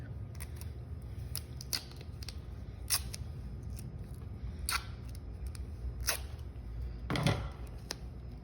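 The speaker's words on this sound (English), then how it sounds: "I'm gonna take a few more pieces of duct tape to tape the edges" Pieces of duct tape torn off a roll while building a solar oven, with several short, sharp ripping bursts spaced irregularly over quiet background.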